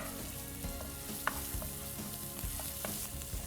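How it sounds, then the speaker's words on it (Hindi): Ginger and green chili sauté in a pan, giving a steady, moderate sizzle with a few sharp scrapes and taps of a stirring spoon. "अच्छे से चला लीजिए और सिर्फ 2 मिनट तक सौते करना है"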